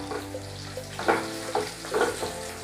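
Green chillies and spice powder fry in a pan while being stirred, giving a steady soft sizzle broken by a few scraping stir strokes close by.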